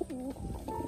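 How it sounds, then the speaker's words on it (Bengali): White racing pigeons kept in a pair cooing close by, a short run of soft throaty coos lasting under a second. "এই জোড়াও কিন্তু বন্ধুরা ভালো বাজির পায়রা"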